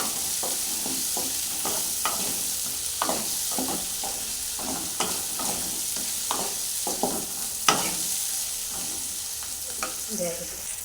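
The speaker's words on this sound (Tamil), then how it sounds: "நல்லா இதை எண்ணெயிலே ஃப்ரை பண்ணுறோம்." Raw plantain slices fry in oil with a soft, steady sizzle, while a spoon or spatula scrapes and taps the pan at irregular intervals, close up and fairly quiet.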